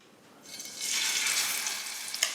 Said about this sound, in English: Hot pan, hot fat, searing salmon